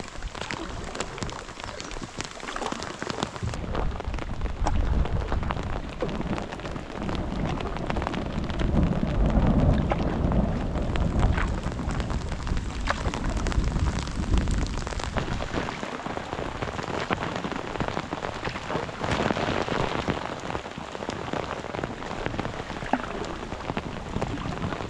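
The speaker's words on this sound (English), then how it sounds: "Look how thick that rain is over there" Heavy rain pours down steadily in a storm, a dense loud hiss of drops on surfaces lasting the whole stretch, with low rumbling underneath and some wind buffeting the microphone.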